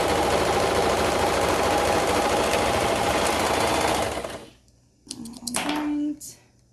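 A sewing machine or serger stitches an overall strap in a loud, steady mechanical whir that stops partway, followed by brief handling noises and a short burst of renewed running.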